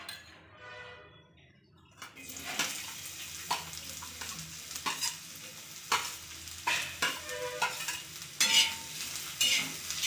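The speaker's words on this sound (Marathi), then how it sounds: "थोडंसं तेल टाकून आपण कांदा भाजून घेऊया।" Onion frying in oil in a pan while cooking a Marathi brinjal and potato curry, starting quiet, then a steady close sizzle with repeated stirring scrapes and clinks.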